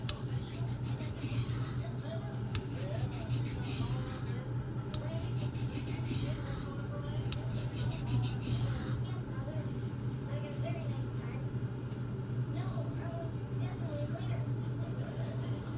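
A knife being sharpened freehand on a sharpening stone, with rhythmic scraping strokes of the blade across the stone, close and steady, under a low constant hum, and a voice talking over part of it.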